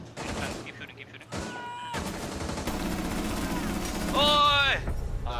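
Gunfire in the Rainbow Six Siege video game on the Vector map: rapid bursts of automatic shots running almost nonstop, loud and dense, with a short electronic whine near the end and players talking over it.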